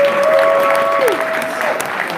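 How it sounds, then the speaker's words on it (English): Audience at the World Crypto Conference breaking into brief applause, a dense burst of clapping with a faint tone running underneath. "can we get a round of applause for Adam and the whole World Crypto Conference?"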